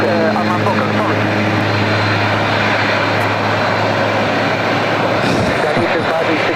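A large airliner at LAX rumbles steadily close by, its engine drone loud and continuous throughout, with a voice talking over it.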